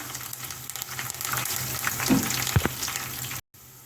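Seeds and pieces sizzle and crackle steadily in hot oil in a pan, with a few louder pops near the end before it cuts off.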